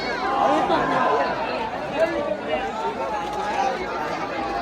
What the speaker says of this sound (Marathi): बघू शकता तुम्ही गर्दी किती आहे